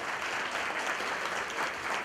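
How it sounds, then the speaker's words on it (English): An audience at the St Joseph Players' "An All American Review" show applauds itself, a dense, steady burst of clapping from a roomful of people, loud and continuous with no talk over it. "Give yourselves a hand."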